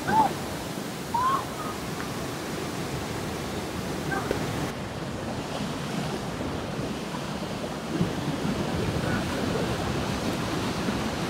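Sea waves wash steadily onto Saltburn beach in mid-February, a continuous broadband surf roar with wind buffeting the microphone and a faint crow call now and then.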